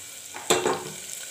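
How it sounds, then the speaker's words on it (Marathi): Ghee with cumin, cloves, black pepper and onion frying in a pan for bhagar rice, a short burst of sizzling that flares up suddenly and then settles into a softer crackle, heard alone with no talk. "त्याचमध्ये जिरे टाकू, जिरे लवंग मिरे आणि कांदा टाकू।"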